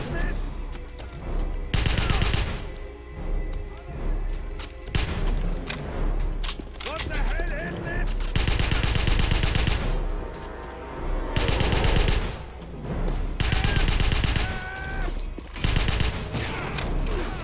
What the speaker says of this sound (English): You can tell if they're still alive because they're shooting.